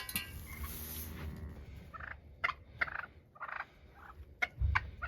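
Several semi-tame wild turkeys gobble in short bursts, some nearer and louder than others, with scattered pauses between calls.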